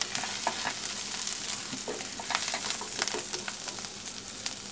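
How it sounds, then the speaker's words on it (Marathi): Chopped green chillies sizzle and crackle in hot oil in a pan on a gas stove, with intermittent stirring scrapes and pops throughout. "आपण यामध्ये चांगलं फ्राय करायचं आहे।"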